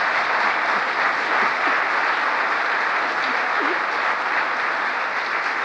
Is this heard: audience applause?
yes